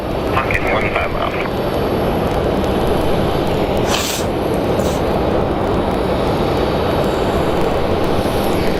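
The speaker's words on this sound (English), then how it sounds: "now we have an Embraer 175 coming in from Denver" An Embraer 175 jet airliner landing at Phoenix Sky Harbor after a flight from Denver gives a loud, continuous rushing roar, with a brief brighter burst partway through.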